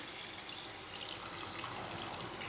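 Water pours steadily into a cooking pot of spiced boiled potatoes, a soft, continuous splashing rush, faint and close, with no talk.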